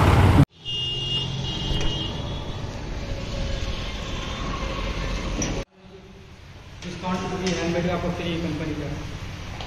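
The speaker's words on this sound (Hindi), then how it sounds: "तो ट्रैफिक बहुत ज़्यादा ही है यहाँ पे" Heavy city road traffic rumbles in a dense, steady roar of passing engines, cut off briefly midway before resuming, with someone speaking over the noise.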